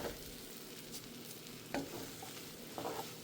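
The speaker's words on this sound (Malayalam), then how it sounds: "ഇങ്ങനെ ഇളക്കി കൊടുക്കത്തേ ഉള്ളൂ" Upma made from semolina stirred in a pan after boiling water goes in, a faint, steady bubbling sizzle with a few louder scraping strokes of the spoon, close and without any talking.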